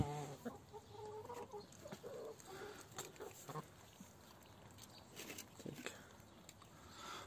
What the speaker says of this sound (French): Avez-vous déjà vu une poule qui mange un yaourt?